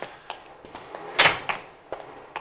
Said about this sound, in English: He's forcing the door.